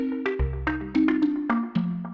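Wood Piece 1 sample from Klevgrand's Tomofon sampler layered into a pop arrangement over marimba: bright, woody plucked notes struck in a steady melodic rhythm, close and clean with a short decay and no voices.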